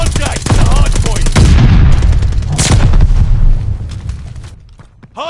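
Gunfire in a Vanguard hardpoint match, a dense, loud roar of rapid shots and booming blasts piling on top of each other before tapering off near the end.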